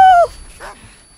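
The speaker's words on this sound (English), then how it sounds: "Guard dog ready." A guard dog killstreak in the video game Call of Duty: Ghosts lets out a single sharp, loud yelp lasting a fraction of a second, then fades into quieter game noise.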